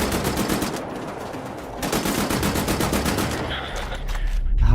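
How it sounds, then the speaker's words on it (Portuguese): Rapid sustained automatic gunfire from a first-person shooter video game, loud and close, with dense bursts rattling continuously for several seconds, dual-wielded weapons against Nazi enemies, no talking. "tacar uma arma em cada mão e sair metendo bala"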